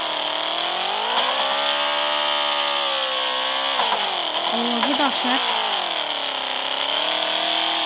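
A banana-shaped car in the Roblox video game revs its engine in a sustained, buzzing whine that rises and dips, while someone talks over it.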